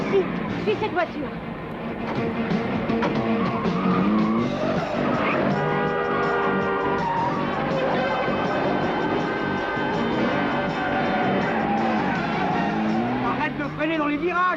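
A car in a 1984 TV-series chase brakes hard through turns, its tires squealing and skidding loudly and close alongside a roaring engine, with voices speaking over the action.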